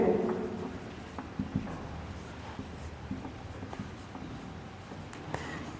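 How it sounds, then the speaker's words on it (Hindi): Pen scratching and tapping across paper while notes are written, a sequence of short irregular strokes and taps at close range, with a louder voice at the start and otherwise no talking. "तो नोट में यहां लिख देते हैं"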